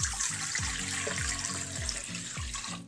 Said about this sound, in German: Nehmen wir das lauwarme Wasser.